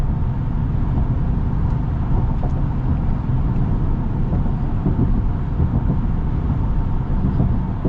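A 2024 Ram 1500 Laramie Night Edition with its Hemi V8 drives along, giving a steady, dense low rumble of engine and road noise that holds evenly from start to end with no talk.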